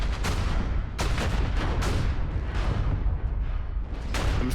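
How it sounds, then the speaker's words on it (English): Artillery strikes rain down during a match of the video game Strike Wing, a dense, continuous barrage of booms and blasts with sharp bursts recurring about every second, loud and close throughout without any talking. "Man, they're spamming those arty strikes."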